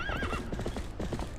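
Hooves clip-clop in a quick rhythm while a horse gives a loud whinny near the start, from the horse in Zelda: Twilight Princess HD, close and clear with no talk.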